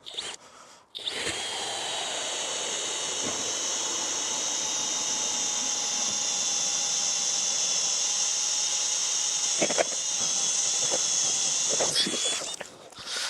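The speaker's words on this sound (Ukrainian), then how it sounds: "Давайте подивимося, як бурить на штатних ножах з підкладеною однією шайбою." A plastic Chinese ice auger bores through roughly 40 cm of ice on stock blades shimmed with one washer, a steady loud whirring grind with a high tone running for over ten seconds, briefly interrupted near the end.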